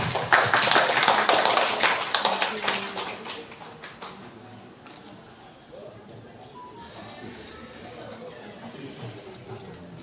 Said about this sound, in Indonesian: kita beri tepuk tangan dulu untuk Ibu Dewi